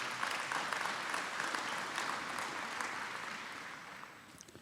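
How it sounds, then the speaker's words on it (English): An audience at a Century Farm luncheon claps in a sustained round of applause, dense and even at first, then gradually thinning and fading toward the end. "Please give yourself a round of applause for that."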